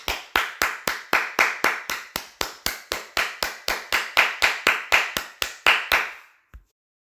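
A single pair of hands claps about twenty times in a steady, brisk rhythm, each clap sharp and close, then stops, leaving a brief tap and silence.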